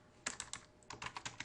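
Keys clatter on a computer keyboard as code is typed, a quick irregular run of about ten close, light clicks with a short pause partway through.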